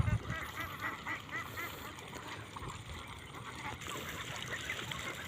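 A flock of ducklings released into a harvested rice paddy, with a continuous chorus of soft quacking and peeping under breezy outdoor ambience.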